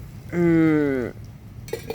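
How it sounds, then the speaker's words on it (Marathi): Water poured into a cooking pot during Marathi village-style drumstick curry preparation, a single pour with a ringing, rising tone lasting under a second, followed by faint kitchen clatter. "टाकू भरपूर पाणी."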